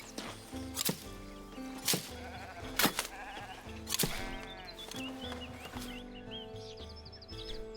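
Sheep in the game Foundation bleat repeatedly, several loud wavering calls spaced about a second apart, close and clear over a soft farmyard ambience with faint bird chirps.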